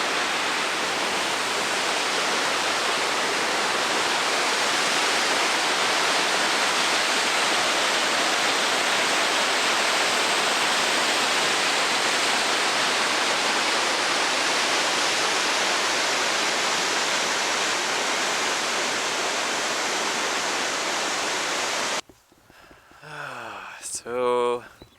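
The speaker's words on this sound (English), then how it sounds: "what we thought was a short little hike to maybe a small waterfall turned into this" A waterfall at the end of a hike roars with loud, steady broadband rushing for about twenty-two seconds, then cuts to a brief passage of voices.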